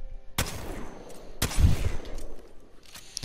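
Two heavy, booming blasts from the Mastiff shotgun in Apex Legends, spaced about a second apart, each with a sharp crack and a long decaying tail, followed by fainter distant game noise.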